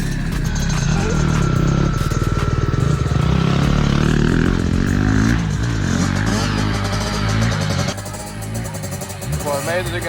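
A two-stroke dirt bike engine revs and buzzes steadily on a single-track trail, rising and falling in pitch with throttle changes, loud and close, with people talking over it.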